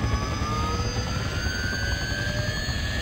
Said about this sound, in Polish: Leć, helikopterku, leć.